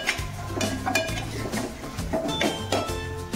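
Masala paste for chole being stirred and mixed in a cooking pan, with soft scraping and light metallic clinks of the spoon repeating steadily throughout at close range.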